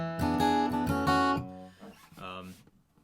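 Acoustic guitar plays the next phrase of a tune as a quick run of bright plucked notes that starts strong and then trails into a few softer, ringing notes.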